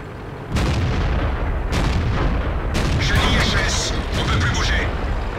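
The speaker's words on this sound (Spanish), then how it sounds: "voy a pegar el tiro" A tank cannon fires in a World of Tanks match, a heavy booming shot that rolls over continuous game rumble and engine noise, with fainter crackling blasts following, loud and close.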